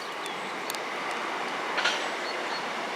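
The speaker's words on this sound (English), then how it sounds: "Here comes the train." A train rolls past near a fishing lake, a steady broadband rumble of railcars with faint wheel clatter and a brief squeal, fairly distant and continuous.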